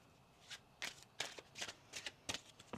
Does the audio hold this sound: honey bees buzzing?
no